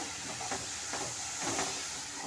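Sweet jaggery filling for a traditional Kokani festival dish sautéing in a pan after cardamom and nutmeg powder go in, a steady close sizzle and hiss with soft stirring scrapes, no talking.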